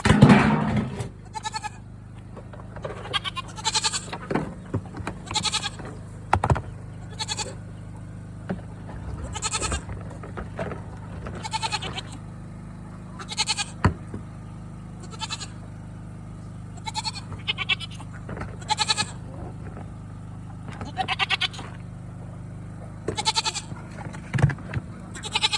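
Goats on a farm bleat repeatedly in short, scattered calls over a low steady hum, some near and loud, others fainter, with occasional knocks.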